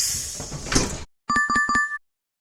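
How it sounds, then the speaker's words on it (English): Bus door opening with a hissing pneumatic rush of air that cuts off, followed after a short gap by a quick series of bright electronic chime-like tones. "Sound is bus door open"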